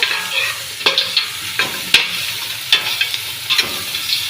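Spices and pounded ginger sizzling in a pan for a mutton curry, a loud close hiss punctuated by repeated sharp spoon scrapes and knocks against the pan at irregular intervals, with no speech.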